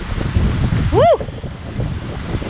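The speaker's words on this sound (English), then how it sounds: "it's too windy" Strong outdoor wind buffets the microphone with constant low rumbling gusts. Partway through, a brief rising-and-falling voice cuts in over it.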